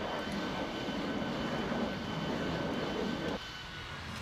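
A Panavia Tornado jet taxis to parking in the X-Plane flight simulator, its steady engine whine and roar holding for several seconds before the level drops abruptly as the engines spool down.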